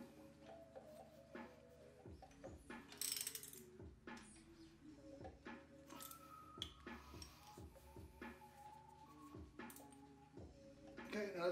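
A GearWrench ratchet tightening a bolt on a 1980 Honda CB650 motor, with repeated quick ratcheting clicks in short bursts and metallic clanks, close up, between stretches of quiet.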